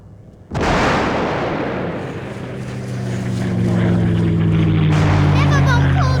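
Bombing in an air raid over the town of Caldale: a sudden loud blast rolls into a sustained heavy roar with a deep droning hum beneath it.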